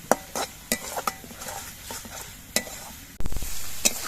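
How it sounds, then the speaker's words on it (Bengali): Ginger and garlic paste frying in a pan for a fish dish, a spatula scraping and clacking against the metal in irregular strokes over a soft sizzle, growing louder and steadier toward the end, close with no talk. "এবারও কিছুক্ষণ নাড়াচাড়া করে নিতে হবে যাতে রসুন আদা এগুলো কাঁচা গন্ধটা চলে যায়"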